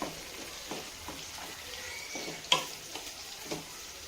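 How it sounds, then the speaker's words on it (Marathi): Thinly sliced onion sautés in a pan for a dry spinach dish, a soft, steady frying hiss broken by light stirring clicks and one louder tap partway through. "तर इथं कांदा परताय टाकलेला आहे, आपण कांदा परतून घ्यायचा आहे।"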